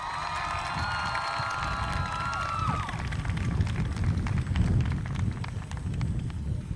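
A Martinsville High School class of 2023 graduation crowd gives a sustained roar of cheering and applause that stays dense and steady throughout, with a few high whistle-like tones near the start.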